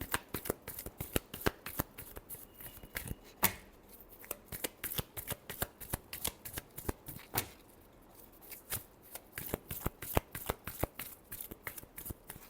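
A deck of tarot cards being shuffled by hand, rapid crisp riffling flicks in dense bursts with short pauses, close and fairly quiet, no voices.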